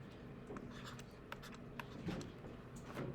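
A pen writing plus and minus signs while working an algebra problem on completing the square: faint scratchy strokes in short bursts, close but quiet, with no talking.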